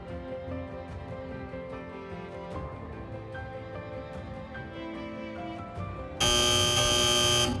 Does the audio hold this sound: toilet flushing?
no